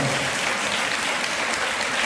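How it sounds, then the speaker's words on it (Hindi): A church congregation at a Christmas gathering claps together in thanks, a dense, steady burst of applause filling the short clip with no pause. "ताली बजा के प्रभु के धन्यवाद"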